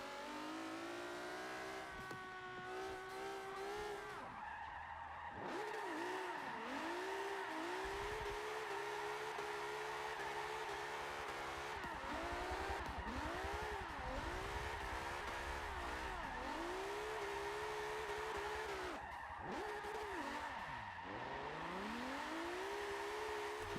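A 1969 Nissan Fairlady Z tuned to 439 bhp in Forza Motorsport 7, engine revving hard through repeated rising and falling gear sweeps, with dips on lifts and downshifts, tire noise mixed in, continuous and upfront throughout.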